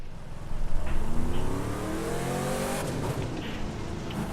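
A car engine revs and roars steadily, rising in pitch as it accelerates, with a brief tire squeal; a synthetic engine sound from the video game The Crew 2, with no talking.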